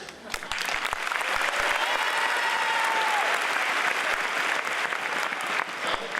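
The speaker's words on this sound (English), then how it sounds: "I want to see you clap for me so that I can hear it" School assembly audience clapping at a Diversity Assembly, a continuous roar of many hands with a few sharper, nearer claps standing out, holding steady before thinning slightly toward the end.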